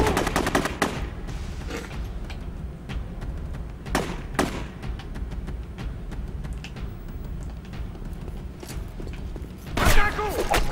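Gunfire in the video game Rogue Warrior, with scattered shots and sharp bursts over a steady battle din, one loud blast standing out near the end.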